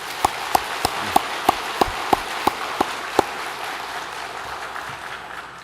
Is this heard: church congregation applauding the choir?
yes